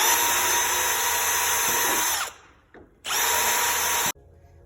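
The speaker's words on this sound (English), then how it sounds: "Now you're going to drill holes and through the template and all your billet holes." A power drill whines loudly at high speed drilling holes through a template, stops, then runs again in a second burst, with quiet pauses in between.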